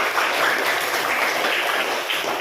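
Steady, dense applause from a classroom group of students, continuous and fairly loud throughout with no pauses and no speech.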